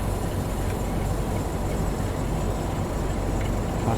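A Class 47 diesel locomotive in the simulator game Train Sim World, shunting stock at Blackpool North, gives a steady, loud rumble with a faint rolling clatter that holds evenly the whole time.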